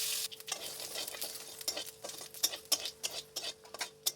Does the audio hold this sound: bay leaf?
yes